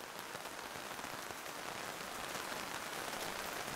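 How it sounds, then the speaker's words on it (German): Heavy rain pours onto hard surfaces in a constant, dense hiss of drops, steady and close throughout with no voices. "Es regnet in Strömen"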